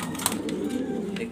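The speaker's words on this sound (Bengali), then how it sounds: "দেখার মতো কবুতর, শার্টিং কবুতর" Jharna satin pigeons give low, continuous cooing at close range, with a little background noise around them.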